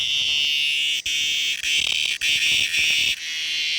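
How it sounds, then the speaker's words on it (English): A loud, continuous high-pitched buzzing drone of a male cicada in Borneo's rainforest, close by, with brief dropouts and faint rhythmic clicks underneath. "This is a cicada."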